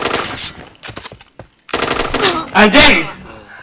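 Rapid automatic gunfire from the first-person shooter game Point Blank, loud bursts of shots with short gaps between them and a voice briefly audible beneath.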